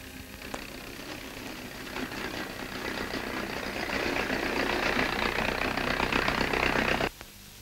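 An early Soviet-era tractor engine runs steadily, a rough mechanical drone building slightly louder over several seconds before cutting off abruptly near the end.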